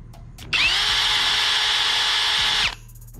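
A PUMA PM-280BL brushless cordless drill with a 13 mm chuck runs in high gear, a steady high-pitched whine that starts abruptly, holds for about two seconds and stops, heard alone and fairly close.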